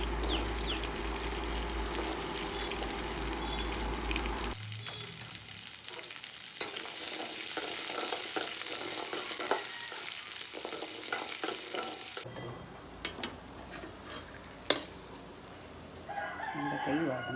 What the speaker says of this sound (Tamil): சின்ன வெங்காயத்தை வந்து கொஞ்சம் எண்ணெய் விட்டு நம்ம வதக்கி எடுத்து வச்சுக்கலாம்